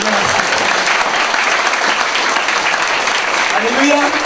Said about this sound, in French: Applaudissez la parole du Seigneur.